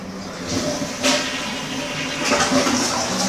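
A bathroom toilet flushes with a continuous rushing, gurgling wash of water that holds steady and fairly loud throughout, heard up close with no talk.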